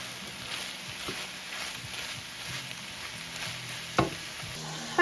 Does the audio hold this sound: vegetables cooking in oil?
yes